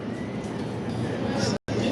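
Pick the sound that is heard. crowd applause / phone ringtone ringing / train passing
train passing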